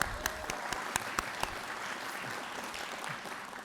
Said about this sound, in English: a round of applause for Todd.